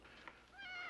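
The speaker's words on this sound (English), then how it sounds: "I got all these cats." A cat gives a single short meow, close and fairly quiet, rising clearly at the end of a brief quiet moment.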